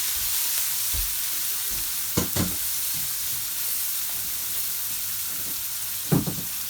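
Chopped white onion frying in a pot makes a steady close sizzle, broken by a few soft stirring knocks.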